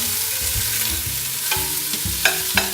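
Meatballs sizzle and spit in a hot pan, with a steady frying hiss broken by a few brief scraping and clinking sounds from stirring.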